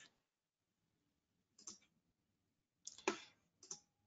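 A computer mouse gives a few sharp, isolated clicks, close and crisp against near silence, while navigating Google Classroom.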